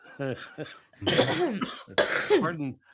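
Harsh coughing bursts mixed with speech, two voices close by, with raspy coughs breaking up their talk.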